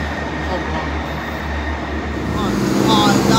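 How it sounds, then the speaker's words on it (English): A ScotRail Class 158 diesel train bound for Edinburgh runs through Haymarket station as a loud, close, steady rumbling roar that swells slightly toward the end. "That's 158-72 on the side of the lake, 1234. ScotRail service to Edinburgh."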